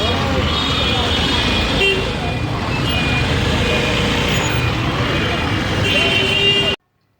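Steady, dense roadway noise of a traffic jam on a cold, drizzly day: engines idling and rumbling close by, with occasional horn toots, continuous and unbroken until it cuts off abruptly.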